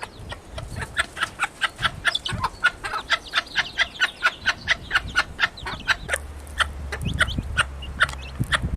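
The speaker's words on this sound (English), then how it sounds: "So in that box are 6 quails, 3 male quails and 3 female quails." Six quails, three male and three female, sit in a box, giving a rapid run of short clucking calls in quick succession, close and fairly loud, with a low rumble of handling in the background toward the end.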